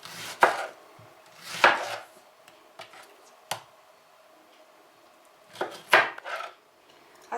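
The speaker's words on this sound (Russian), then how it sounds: "Кубиками нарезаем помидор." Knife dices a tomato on a cutting board in sparse, uneven strokes, a few sharp clacks with pauses between, close and fairly quiet.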